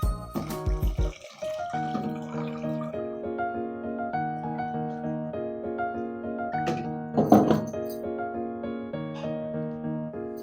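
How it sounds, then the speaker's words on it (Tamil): Water is poured over washed lentils in a kitchen to soak them for lentil adai. A short splashing burst stands out above steady background music. "இப்போ நம்ம தண்ணி ஊற்றி ஊற வைக்க போகிறோம்."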